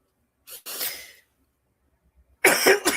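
A single close cough, then a short pause before a second, harsher cough or throat-clearing burst.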